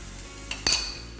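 Spoon stirring a spiced beef mixture with curry masala and pepper in a pan, a few faint scrapes and clinks of metal against the pan in a quiet kitchen.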